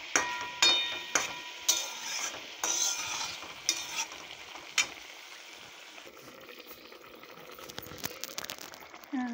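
Green chillies frying in a pan while being stirred, with scraping stirs and bursts of sizzling in the first half that settle into a quieter, steady crackle with a few soft clinks.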